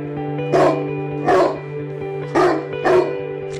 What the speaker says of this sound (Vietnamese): con chó nó cứ sủa hoài